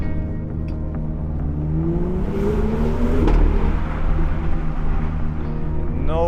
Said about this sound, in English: That's why it pops so much more with 100. Lovely V8.